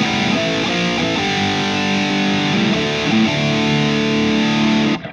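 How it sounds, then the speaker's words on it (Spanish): An electric guitar runs through an overdrive pedal stacked into a distortion pedal on a pedalboard, giving a loud, sustained, saturated tone with a few chord changes that cuts off abruptly at the end. "Vamos a sumar el overdrive a la disto para ver el ruido."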